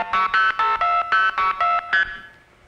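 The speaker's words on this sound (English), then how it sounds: "Those tones you hear are the blue box tones." Blue box phone tones dial old 1970s routing codes into the telephone network. Eight crisp, evenly spaced multi-frequency beeps play in quick succession, each a short, bright, pure chord, then fade into quiet.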